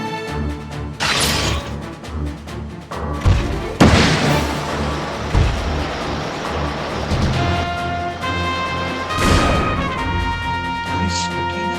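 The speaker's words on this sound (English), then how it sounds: "More missiles." Missile launches and explosions in the mech game Front Mission 4: repeated whooshes, heavy booms and crashing blasts spread over several seconds, loud and dense, with game music tones and someone talking over them.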